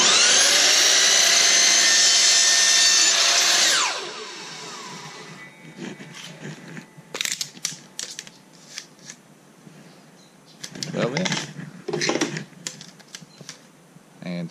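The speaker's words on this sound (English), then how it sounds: "So let me get the saw, we'll get this cut." Power saw with a laser guide cutting a piece of wood at the 12 inch mark: a loud, high whining cut lasting about four seconds, then stopping, followed by scattered clatter and handling sounds.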